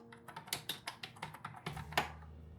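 A name is typed on a computer keyboard: about a dozen close, crisp keystrokes in an uneven rhythm, with a slightly louder key press near the end.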